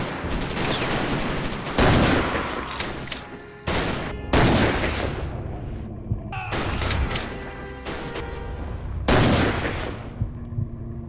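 Sniper rifle shots in a video game, four or five loud, sharp cracks spaced a couple of seconds apart, each one booming and then trailing off, with no talking over them.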